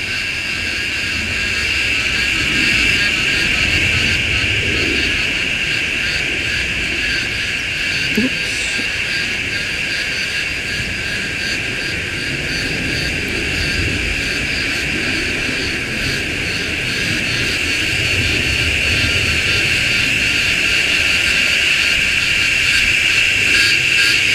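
A jet aircraft passes overhead near Melbourne Airport, a loud, sustained roar that holds steady across the whole stretch, with a high insect-like drone layered on top.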